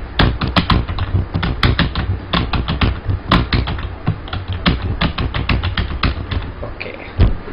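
Fast, steady typing on a computer keyboard, a dense run of sharp close key clicks with no talk over it.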